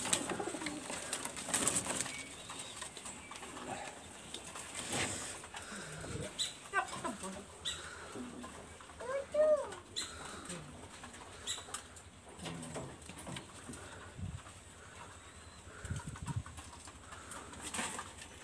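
Pakistani highflyer pigeons released close by, with soft cooing and repeated bursts of wing flapping over a quiet background.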